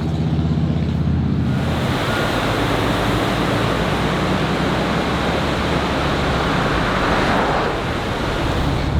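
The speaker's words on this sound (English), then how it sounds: "The falls or rapids seem to start right there" Steady, dense roar of rushing water from river rapids and falls in Warrensburg, New York fills the whole clip, loud and continuous, with no voices.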